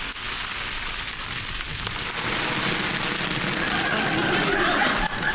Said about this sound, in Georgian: აი შეგაწუხათ წვიმა.